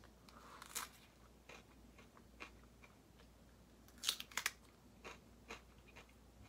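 Quiet, close crunching bites and chewing into a Korean melon, a few sharp crisp crunches standing out against a near-silent background.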